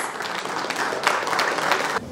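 Audience applauding members of the Nasaf football team during a visit to the Shurtan gas-chemical complex, a steady mass of clapping with light crowd noise, continuous for the whole stretch.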